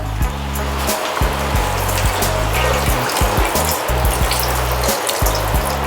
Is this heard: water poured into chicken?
yes